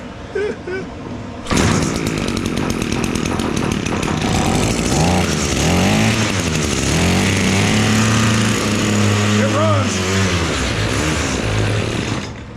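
After a moment of quiet, a pieced-together Echo weedeater/edger engine bursts into loud, close running, revving up and down several times as the throttle is worked by finger, with someone talking briefly over the buzz.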